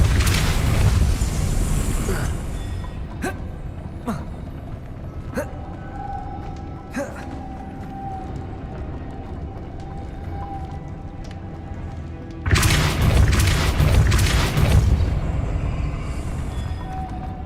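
Confringo and Depulsor spell blasts in the video game Hogwarts Legacy burst out as loud, rumbling booms, with a heavy blast at the start and another later, between quieter combat sounds and a voice.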